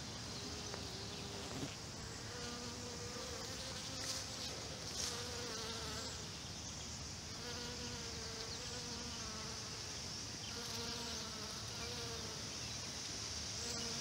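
Steady buzzing of bees and other insects around garden flowers, with several individual drones rising and fading as they fly close past, over a faint outdoor background.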